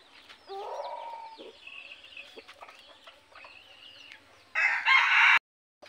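Talisayin labuyo junglefowl roosters crowing in a Philippine yard: several shrill, clipped crows from more than one bird at varying distance, ending in a louder close crow, with soft clucks between.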